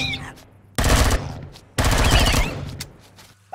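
Loud, close automatic gunfire in the survival game Empyrion: Galactic Survival comes in two sustained bursts, with quieter gaps and faint clicks around them.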